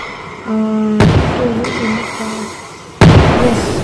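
Sharp, loud firework bursts go off twice in a fireworks simulator game, each with a crackling, noisy tail, while game-like tones and chimes play around them.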